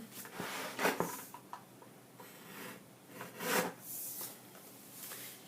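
Scrapbook paper is trimmed up close, with soft uneven rubbing and scraping strokes that come in short bursts between quiet gaps, faint and without talk.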